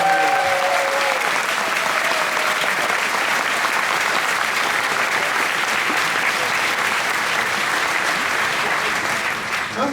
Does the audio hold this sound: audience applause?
yes